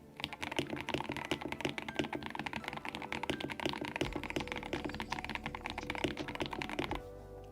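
Rapid, steady typing on a fully molded TM680 computer keyboard, dense clacking keystrokes filling the whole stretch, close and fairly loud with no talk.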